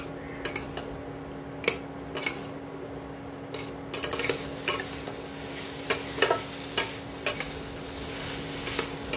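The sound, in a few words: vegetables being stir-fried for Bengali shukto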